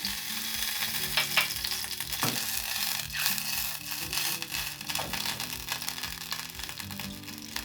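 A spoonful of butter with about two spoonfuls of olive oil heating in a pan over a lowered stove flame, giving a close, steady frying sizzle with faint crackles, continuous and without voices.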